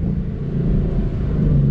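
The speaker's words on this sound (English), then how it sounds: "by me putting it into gear, that's what's actually, you know, revving the thing up" Engine of a Ford Mustang GT revving up as the driver shifts gear while rev matching, a loud, close, steady low rumble that holds without pause.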